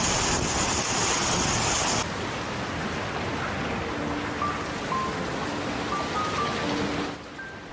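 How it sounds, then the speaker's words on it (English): Heavy rain and hail pour down in Saudi Arabia in a dense, steady roar of noise that stays loud throughout and eases slightly at the very end. "The bad weather was accompanied by hail and heavy rain."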